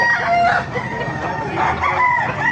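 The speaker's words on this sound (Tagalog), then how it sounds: "Papakita ko sa inyo mga manok dito sa Maliwag." Roosters crow loudly and close by at a market in Baliuag, several overlapping calls rising and falling, with hens clucking in the background.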